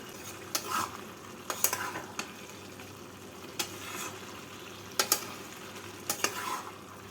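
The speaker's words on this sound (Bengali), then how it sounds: "পাঁচ মিনিট পর ঢাকা খুলে কপিটাকে নাড়াচাড়া করে নেব" Shredded cabbage stirred in a pan while cooking a fish-head cabbage ghonto, with a spoon scraping and clinking in a few separate bursts over a soft, continuous sizzle of frying; no one speaks.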